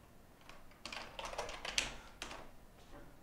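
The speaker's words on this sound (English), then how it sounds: "So just for demo purposes, I'll type this in the chat, line 6." A short burst of quick taps on a computer keyboard as a message is typed into a chat, close and fairly quiet, with irregular clusters of keystrokes and no speech.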